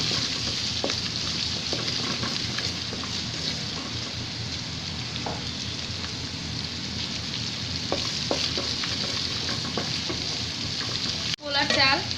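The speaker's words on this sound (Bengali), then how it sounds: "আদা রসুন বাটা ভালো করে একটু তেলের সাথে ভাজবো" Ginger garlic paste frying in hot oil in a pan gives a steady, close sizzle with occasional scraping from stirring, lasting throughout and ending in a brief clatter.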